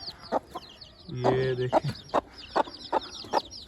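A hen clucks beside her four young chicks of a pure breed: repeated short clucks at a steady pace, with a longer, louder call in the middle and high cheeping from the chicks throughout, while someone speaks briefly.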